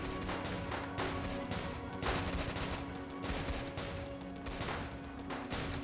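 Gunfire aimed at a boss in a Roblox zombie game, repeated bursts of shots over a constant droning game background at moderate volume.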